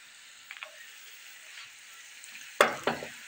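Onions frying in a pan for a Turkish umaç soup, a low steady sizzle running throughout with a few sharper crackles and stirring knocks toward the end.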